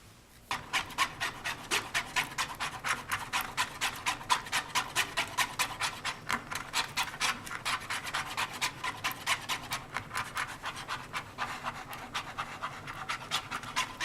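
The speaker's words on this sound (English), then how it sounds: "Okay, I'm stirring up the epoxy." Stirring Quick Cure 5-minute two-part epoxy, resin and hardener mixed together: steady, rapid scraping strokes in an even rhythm, close and continuous throughout, with no talking.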